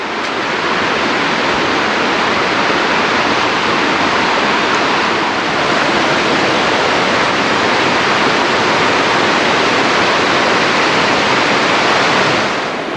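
Constant, loud rushing water of a fast stream or small cascade on the Abrams Falls Trail in the Great Smoky Mountains, a steady broadband hiss with no pauses or voices.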